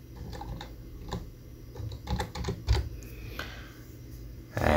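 Someone types a command on a computer keyboard at a Linux server terminal, with a quick irregular run of close, crisp key clicks and a louder keystroke at the end.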